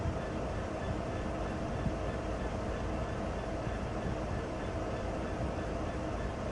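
A BNSF SD70 locomotive pulling a grain train as it departs, a constant loud low rumble and rolling drone holding steady throughout with no clear changes.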